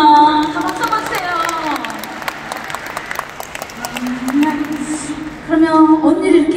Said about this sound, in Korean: 박수 받으세요.